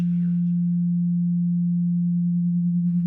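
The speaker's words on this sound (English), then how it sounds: "when you listen to two slightly different tones" A pure steady low sine tone hums continuously, briefly overlapped by faint murmuring at the start and end, the kind of paired tones used to create a binaural beat.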